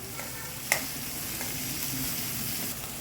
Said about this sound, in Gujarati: આદુ મરચીની પેસ્ટ નાખ્યા પછી કેપ્સિકમ નાખીશું અને એને બરાબર સાતળી લઈશું.